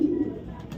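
A light-coloured female racing pigeon with a silver neck and red bars gives a brief, low, close coo as she is let go, followed by a faint rustle.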